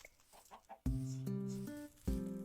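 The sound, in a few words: chickens clucking in the video game Minecraft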